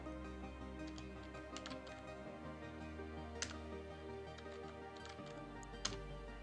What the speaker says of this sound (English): So type the new password for the root.